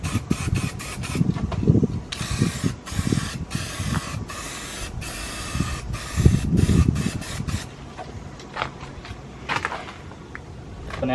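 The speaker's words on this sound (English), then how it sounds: "just going to put down first can of primer." Aerosol can of primer sprayed over body filler on a car panel in a series of sharp hissing bursts, close and loud, separated by short gaps with light handling knocks, fading to scattered clicks toward the end.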